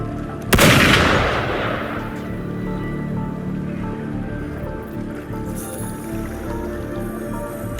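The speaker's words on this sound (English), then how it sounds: "Gunfire! We've got intruders." A single sharp, loud gunshot blast in a video game followed by a decaying echo, then a low steady ambient hum with faint rustling.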